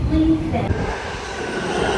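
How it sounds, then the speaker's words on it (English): A subway train in New York rumbles steadily in a station or car, with a brief high squeal near the start and a continuous low mechanical roar throughout, loud and close. "Getting on this train right now."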